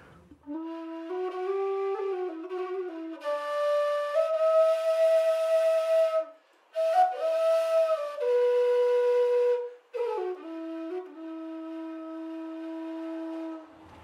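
Metal Dave Shaw whistle with a wooden mouthpiece playing a breathy, haunting traditional melody alone, clear sustained notes with slides and ornaments, two brief pauses for breath, close and steady in loudness.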